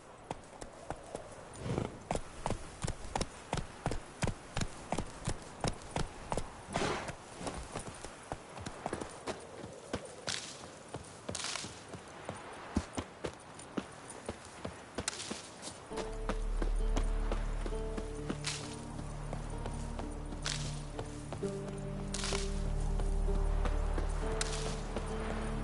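Hooves of Geralt's horse Roach from The Witcher III drum in a steady galloping clip-clop rhythm, loud and close, then ease off as a low droning musical bed comes in beneath them. No one speaks.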